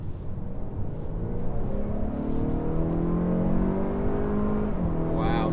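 A 2019 Honda Accord Touring accelerates hard onto a highway, its engine note rising steadily in pitch as it pulls, loud and continuous from the cabin, with a brief shift near the end.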